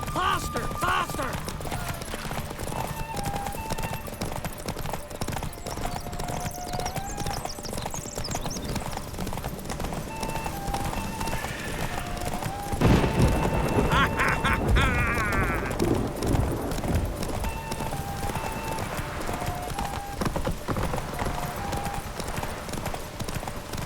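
Hooves clip-clop in a fast, steady rhythm during a horse race in The Witcher 3, with brief whinnies and a louder rumble of several horses partway through over a busy background.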